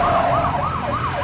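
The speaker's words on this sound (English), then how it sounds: "Kill the siren." A wailing emergency siren sweeps up and down in repeated cycles, loud and steady over road noise.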